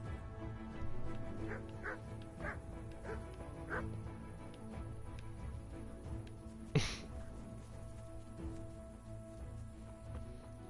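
A dog barks a few times in a backyard within the video game Kingdom Come Deliverance, short yips spaced over a steady game ambience with a faint patter like rain, followed by one sharp louder hit.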